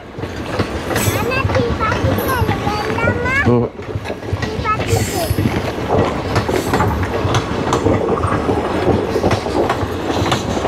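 Tirupati to Karimnagar passenger train pulling into platform 1, loud and close, with steady rumbling, clattering wheels and squealing, while people talk nearby.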